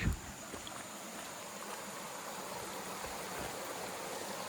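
Bear Creek flowing through rainy forest along the Foothills Trail, a steady broadband rush of running water, fairly faint and unbroken throughout, heard alone with no voices.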